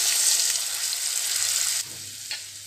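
Tomato puree hitting melted butter and cumin seeds in a pan for paneer butter masala: a loud, close hiss of sizzling that drops in level partway through and continues more quietly with a soft stir, no talking.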